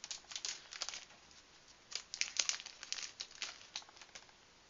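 Bubble wrap crinkles softly and close by as a lipstick is unwrapped, giving irregular light crackles and rustles across several seconds at low volume with no talking.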